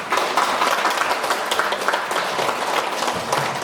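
An audience of parents at an education briefing in Daegu greets a lecturer with loud, continuous applause, many hands clapping together in a dense, even roar that holds steady throughout.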